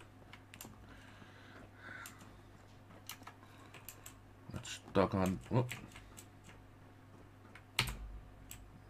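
Clicks of a computer keyboard during a Fallout 4 session, with scattered sharp taps and a brief burst of busier typing in the middle, heard close under occasional spoken remarks.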